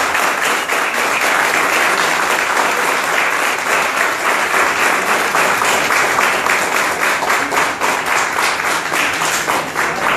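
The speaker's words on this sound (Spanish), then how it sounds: "Y les pueden dar un fuerte, muy fuerte aplauso a ellos" A large crowd at a company gathering in Sincelejo, Colombia gives loud, vigorous applause, a dense continuous roar of clapping sustained for about ten seconds without letup.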